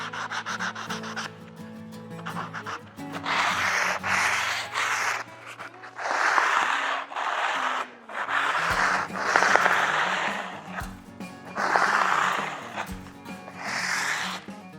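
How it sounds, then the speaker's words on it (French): Fine abrasive paper worked over the frets of a guitar neck, repeated rhythmic back-and-forth rasping strokes in bursts, close and fairly loud, with short pauses between passes. "Au niveau du ponçage, 240, 320, 400, mais uniquement pour les frettes qui ont été touchées"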